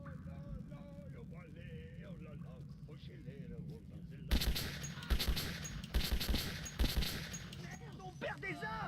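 Gunfire in the Metro 2033 video game: after quiet talk, a burst of several sharp shots rings out, with more shots spaced over the next few seconds while speech continues.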